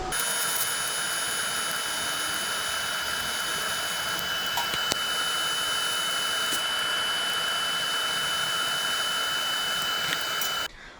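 A TIG welder runs on thin metal in the vertical-down position, giving a steady, loud buzzing hiss that lasts almost the whole time and then cuts off near the end. No voices.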